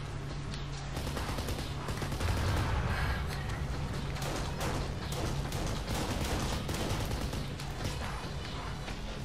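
Dense gunfire in the Kane & Lynch video game: rapid overlapping shots and automatic bursts form a continuous crackling barrage through the whole stretch, with no clear talking.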